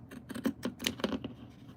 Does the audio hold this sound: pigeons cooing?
no